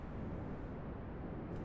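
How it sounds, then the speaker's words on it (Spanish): Low rumbling ambient background layer from a recreated PlayStation 2 intro, a steady dark bass-heavy drone held at an even level without breaks. "Esas frecuencias como graves que dan algo de ambiente."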